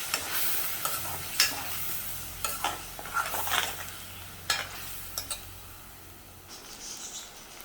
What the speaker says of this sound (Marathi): ह्यामध्ये टॉमॅटो पेस्ट घालूया आणि टॉमॅटोला चांगलं तेल सुटेपर्यंत आपल्याला परतून घ्यायचं आहे